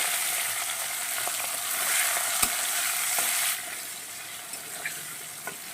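Prawns frying in a pan with panch phoron, a close, steady sizzle with a few sharp clicks from stirring; the sizzle drops a little in loudness partway through.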